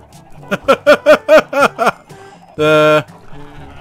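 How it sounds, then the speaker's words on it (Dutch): Llamas in the Minecraft video game bleat in a rapid run of seven short, wavering calls, followed by one longer, buzzy nasal cry, with little else around them. "Het zijn de lama's."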